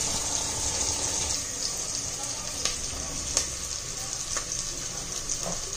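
Onion sizzling in a pan while cooking soybean pulao, a steady frying hiss with occasional sharp crackles and pops, fairly quiet and continuous.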